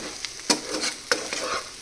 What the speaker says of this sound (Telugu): దీన్ని బాగా ఫ్రై చేసేసుకుందామండి